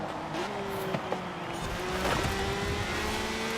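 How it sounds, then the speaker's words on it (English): A Honda NSX-R racing in a Forza Horizon 4 rally event, its engine holding a steady droning pitch that climbs slightly with a few small clicks, loud and continuous throughout. "As per usual of Honda in this game, they are really loud."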